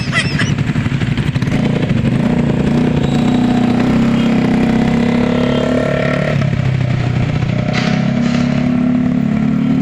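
Loud street traffic in Caloocan City, with motorcycle engines droning and revving up close and a steady mechanical rumble that rises and falls throughout.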